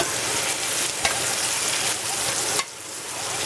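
Osso buco searing in extra virgin olive oil hisses with a loud, close, steady sizzle, marked by a couple of brief shifts as the meat is moved.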